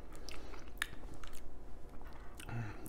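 Someone close by bites and chews smoked pork loin bites, with soft, irregular crunches and wet mouth sounds, quiet and without talk.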